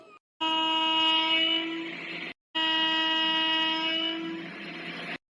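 A departing passenger train sounds its horn in two long, loud, sustained blasts separated by a brief pause, each held steady before cutting off.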